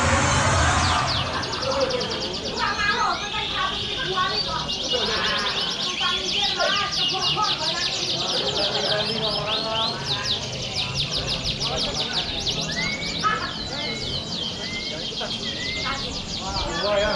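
Canaries sing at a Bogor songbird contest, with dense, continuous trilling and rapid chirps that overlap steadily and loudly throughout.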